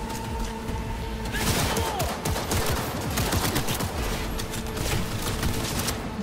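Rapid automatic gunfire in the video game Cyberpunk 2077, a dense continuous stream of shots with thuds and impacts mixed in, loud and unbroken from start to end.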